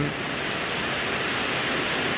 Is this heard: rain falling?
yes